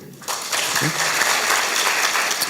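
An audience of university students in Gwangju breaks into steady applause during a lecture by Lee Jae-myung, dense clapping that starts abruptly and carries on loudly to the end with no one speaking.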